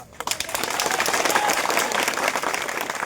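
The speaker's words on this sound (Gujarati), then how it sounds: "આજ તાળી પાડો છો ને, આજ તાળી" A crowd at a community gathering in Bhavnagar claps steadily, a dense, continuous wash of applause that swells within a fraction of a second and holds for about three seconds.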